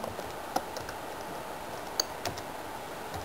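Someone types on a computer keyboard, faint scattered key clicks over a quiet background hiss, with no talking.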